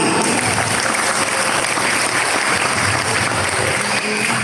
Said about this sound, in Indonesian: Jangan untuk-untukan aja, tepuk tangan.